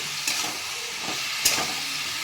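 A steady sizzling hiss of an amla (Indian gooseberry) pickle mixture bubbling in a hot pan on a gas stove, with a few soft pops and clinks, no voices.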